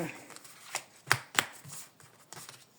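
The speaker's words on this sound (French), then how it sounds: "On tire quelques cartes pour ce week-end." Oracle cards shuffled and drawn by hand in a quiet room, a run of soft papery riffles and slaps with a few sharper snaps, close and fairly faint, with no talk.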